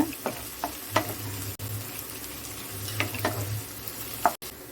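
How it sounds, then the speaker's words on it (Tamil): Onions and tomatoes sauté in a pan while a South Indian idiyappam sevai dish is being cooked. A steady, close sizzle runs throughout, with occasional sharp stirring scrapes and clicks. "ஸோ நல்லா அந்த வெங்காயம் தக்காளிலாம் பாருங்கள் வதங்கிட்டே வருது."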